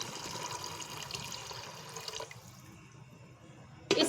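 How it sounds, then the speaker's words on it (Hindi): Three cups of water are poured into a pressure cooker holding black chickpeas and spices for curry. The splashing pour runs for about two seconds and stops, followed by quiet and then a sharp metallic clink at the end. "3 कप पानी डाल देंगे।"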